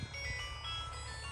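A mobile phone rings with an incoming call on a roadside where a scooter has a punctured tyre: a short, steady, melodic electronic ringtone jingle plays at close range, with no speech over it.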